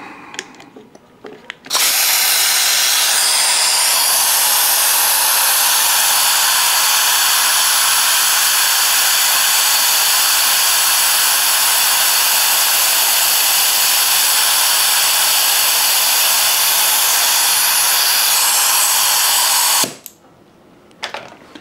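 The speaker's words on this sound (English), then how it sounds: "We'll try pulling a vacuum again in the cooling system." A vacuum tool pulling a vacuum on the cooling system of a VW Mk5 GTI, a loud, steady high hiss that starts abruptly, holds for about eighteen seconds and then cuts off, with no talk.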